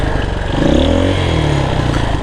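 A motorcycle stuck on a rough mountain road between Pokhara and Muktinath revs loudly and close, its engine rising in pitch and then holding a labored drone.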